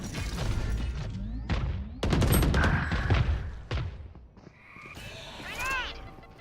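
A missile barrage erupts in the video game Valorant, a rapid series of loud booms and crackling blasts packed together, then fading into whooshing tails with a voice speaking over part of it.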